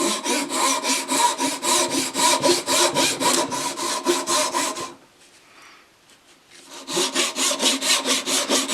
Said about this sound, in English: I am cutting slightly at an angle again, so the tip is a little bit narrower than the very end